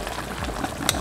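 A pot of fish head curry made with mackerel head and tamarind water bubbles at a boil, giving a close, continuous burble with small pops and no talking.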